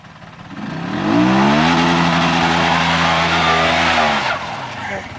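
A nearby quad bike engine revs hard, its pitch climbing and holding at a loud roar before easing off, with a voice briefly audible underneath.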